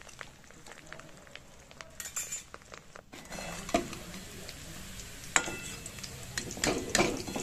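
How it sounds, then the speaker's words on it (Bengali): Fish roe dropped one by one into hot oil for fritters, giving a steady sizzle with sharp pops and spattering bursts, plus occasional clinks of a utensil against the pan, close and without talk. "এবার মাছের ডিমগুলোকে একটা একটা করে আমি দিয়ে দিচ্ছি। মাছের ডিমগুলো খুব ফোটে"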